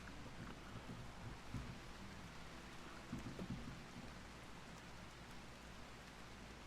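Driving rain in the video game RimWorld, a steady broadband hiss with a few heavier swells and low rumbles running continuously and evenly through the whole stretch.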